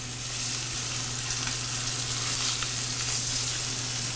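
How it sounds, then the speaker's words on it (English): Pork shank searing in a hot pan, a loud, steady sizzle of hissing fat crackling continuously and close up, with a low hum underneath and no talking. "You know you got a hot pan when you could hear that sizzle."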